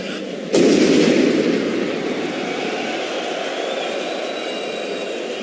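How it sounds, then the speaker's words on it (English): A loud, sudden blast outside the Stade de France during the Paris attacks, a single sharp boom followed by a long rumbling roar that slowly settles into a steady, distant-sounding wash of noise. "he thought that he'd heard something that sounded like an explosion"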